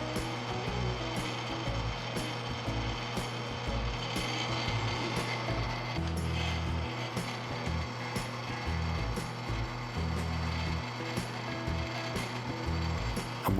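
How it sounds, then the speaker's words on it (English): A CNC mill with a flat bottom bit roughs out a wooden scribe body, a steady, continuous grinding and whirring cut with rapid repetitive ticks running close and loud throughout, no talking. "Switched out to a flat bottom mill bit and we're roughing out the rest of that body."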